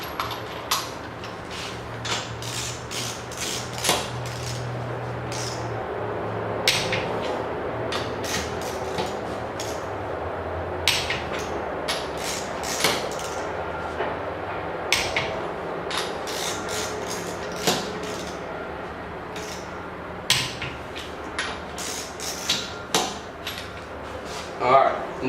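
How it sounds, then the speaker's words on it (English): A torque wrench clicks repeatedly while tightening a car wheel's five lug nuts in a star pattern, sharp ratcheting snaps coming in bursts over about twenty-five seconds, close and fairly loud against a steady background hum. "now that I've torqued down all 5 lug nuts to 60 foot-pounds"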